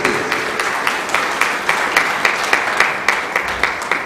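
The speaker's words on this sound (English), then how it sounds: "please could we have a round of applause for all the volunteers" An audience gives a round of applause for volunteers, a loud, steady burst of many hands with a faint regular pulse running through it.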